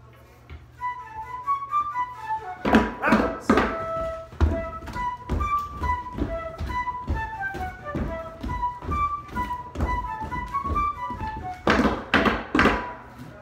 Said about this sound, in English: We will do three taps in the middle and then go around to the left.